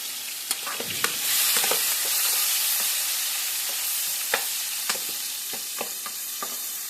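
Three small chopped onions hit hot oil already holding bay leaves and cumin, frying with a loud, close, steady sizzle punctuated by sharp clicks and scrapes from stirring.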